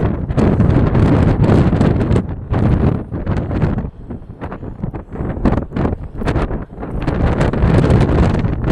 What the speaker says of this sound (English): Said it's quite windy now.